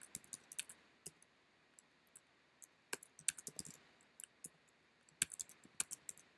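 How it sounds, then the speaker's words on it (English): A login command typed on a computer keyboard: sharp keystroke clicks come in quick irregular bursts with short pauses between them, close and clear against a quiet background. "just go here and type docker login -u"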